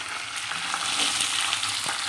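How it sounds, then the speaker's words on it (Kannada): Sliced onions fry in hot oil with a dense, continuous sizzle and occasional stirring, close and fairly loud, with no talking. "ಬನ್ನಿ ಇವಾಗ ಈರುಳ್ಳಿನ ಹಾಕ್ಕೊಂಡ್ಬಿಡೋಣ."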